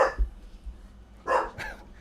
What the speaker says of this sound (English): He barking at us, not even strangers.